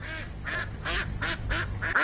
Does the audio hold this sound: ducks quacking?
yes